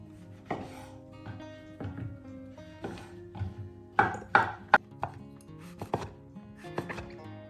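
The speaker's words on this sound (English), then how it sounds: "We'll cut mushroom in dices." A knife dices mushrooms on a cutting board in quick, close, irregular chops, with sharp taps against the board that cluster into a faster burst midway through.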